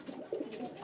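A fancy male pigeon cooing on a rooftop in Chhabra, Rajasthan, a brief soft low coo close by, faint and without speech.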